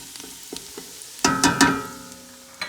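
Garlic in butter sizzles in a pot while being stirred for cream of mushroom soup, a few soft clicks and then a burst of frying crackle with stirring scrapes that fades off.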